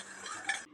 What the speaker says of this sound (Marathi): मिक्स करू, विरघळेपर्यंत याला मिक्स करायचं.